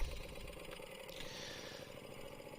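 A 1958 Harley-Davidson Duo-Glide engine runs with a low, steady mechanical throb and clatter, fairly faint and even throughout as the motorcycle moves off in first gear toward second.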